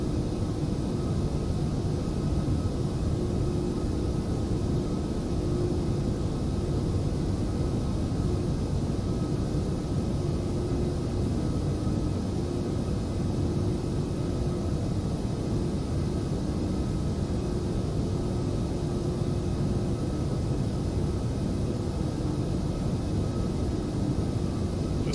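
Airbus A340-600 in the X-Plane 11 flight simulator, a steady, even airliner drone with broadband rush and a low engine hum holding constant throughout, with no voices.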